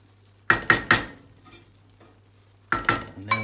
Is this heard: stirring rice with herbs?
yes